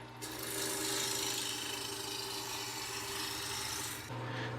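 A 1-inch spindle gouge rasps against a spinning 2x4 on a wood lathe, roughing it down to a round, a loud continuous scraping hiss over the lathe's steady hum, with a brief break near the end.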